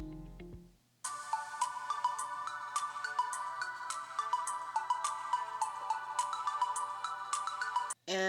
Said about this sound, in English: I'm just gonna play some like copyright-free music so you guys can hear some of it